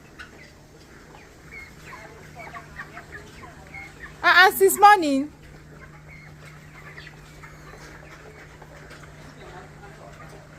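Chickens cluck in a brief loud burst at close range for about a second, against a low steady hum, with people talking before and after.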